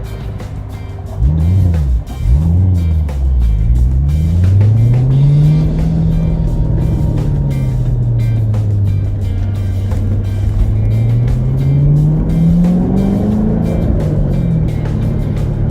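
A car engine close up, revving and rising and falling in pitch as the car shifts through gears while driving, with a steady loud drone throughout.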